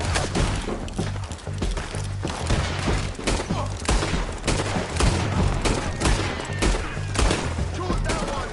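Gunfire in Red Dead Redemption 2 during a bridge shootout, a dense run of overlapping shots and impacts that stays loud and busy throughout, with voices briefly heard over the din.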